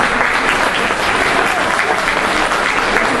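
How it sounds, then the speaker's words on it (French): A hall crowd at a local association speech and lotto event bursts into loud, steady applause, many hands clapping densely and evenly throughout. "On peut applaudir."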